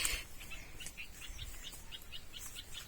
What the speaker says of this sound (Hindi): यहाँ चिड़िया पंछियों की किलबिलाहट भी बहुत अच्छे से सुनाई